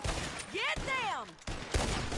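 Gunfire in a Red Dead Redemption 2 shootout, a few sharp reports amid a chaotic battle, with a voice shouting and a whistling tone sweeping through the middle.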